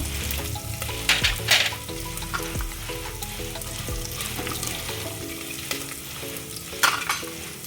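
Peanuts and curry leaves fry in hot oil for masale bhaat, crackling and sizzling close up while a spoon clinks and scrapes against the pan in a loose, repeated rhythm.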